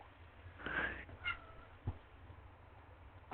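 A cat meows in a video game, a short meow early on and fainter cries after it, heard fairly close over a low steady background hum with no talking.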